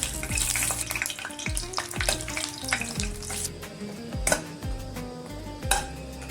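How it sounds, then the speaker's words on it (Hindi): Three or four dry red chillies sizzle in hot oil in a kadai for a dhaba-style urad dal tadka, a loud crackling fry with repeated metallic scrapes and clinks of a ladle against the pan. "इसी तेल पे 3-4 पीस सूखा मिर्ची फ्राई कर लेंगे।"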